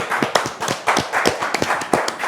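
A small group claps in quick, uneven bursts, close by, with sharp hand slaps repeating for a couple of seconds.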